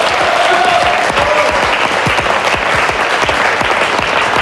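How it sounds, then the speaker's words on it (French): A TV game show studio audience applauds a contestant, loud, close, even clapping sustained throughout with a brief voice early on. "On applaudit Florence, on va l'encourager."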